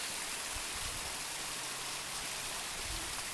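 A small rain-fed woodland waterfall splashing into a stream, heard as a constant soft hiss of falling water, even and fairly quiet, with no voices.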